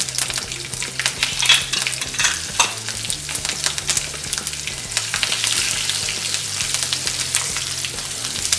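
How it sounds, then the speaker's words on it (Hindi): Green chillies fry in hot oil with asafoetida and curry leaves, giving a steady, close crackling sizzle with irregular spatter pops and occasional stirring throughout, without talk. "हरी मिर्च को हम थोड़ा सा 1-2 मिनट के लिए तेल में फ्राई होने देंगे।"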